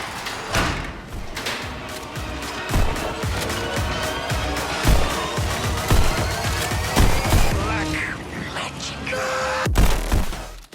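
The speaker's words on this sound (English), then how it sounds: "Gun blasts are explosive" Gun blasts from the VR rhythm shooter Pistol Whip on PSVR fire in rapid, punchy bursts over booming, bass-heavy music, with repeated sharp impacts throughout and a voice talking over them.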